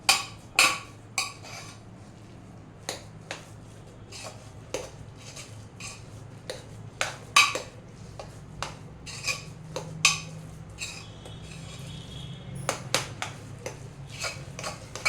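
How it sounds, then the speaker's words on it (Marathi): A spoon mashing cooked rice inside a pressure cooker, a quiet, irregular run of metallic clinks, taps and scrapes against the pot, close by and without talk. "कुकरमध्येच त्याला बारीक बारीक करून घेऊया आपण."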